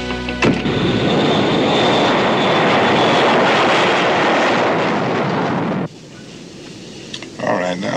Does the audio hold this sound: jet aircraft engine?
yes